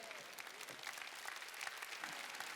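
A church congregation claps together during a Wednesday worship service, a dense, steady wash of applause with no voices over it.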